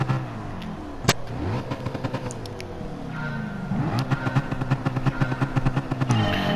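Gen 7 NASCAR stock cars launching at a race start in Gran Turismo Sport, a pack of V8 engines revving and accelerating together with rising pitch sweeps and clattering gear changes, loud and continuous.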